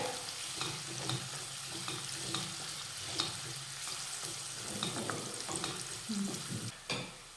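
Finely chopped onion sautéing in a pan over low heat, a soft continuous sizzle with scattered spoon scrapes and stirring taps, moderately close, no talk.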